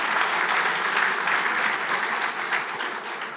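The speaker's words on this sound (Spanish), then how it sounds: "Un aplauso." Steady applause from an audience at a lecture on conservatism versus liberalism, a dense, even wash of clapping sustained throughout with no voices over it.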